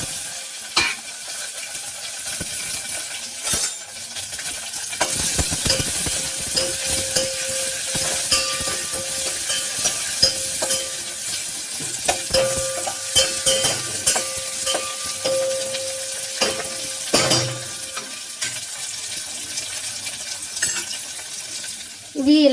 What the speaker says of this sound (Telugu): ఇలాగా ఆనియన్స్ బాగా వేయించేంత వరకు ఉంచాలండి.